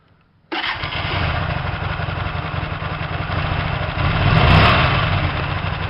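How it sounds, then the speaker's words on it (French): A Hyosung 125 GTR motorcycle engine catches abruptly and settles into a steady, loud idle close by, rising slightly in intensity near the end. "Ensuite on va mettre la moto en route."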